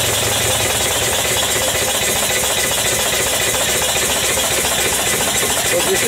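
A twin-cylinder V-type 20 HP steam engine runs on a test bed, giving a loud, continuous mechanical chugging and hiss with a rapid knocking rhythm and no talk.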